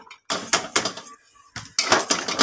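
Washed flat beans (shim) tipped into a pressure cooker with a little water, giving a close, loud clattering rush in two bursts, with a short quiet gap between them, no talk.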